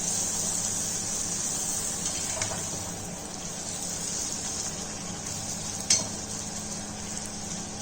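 Masala poori frying in hot oil, a steady, close, bubbling sizzle that holds for the whole stretch, with a brief sharper crackle near the end.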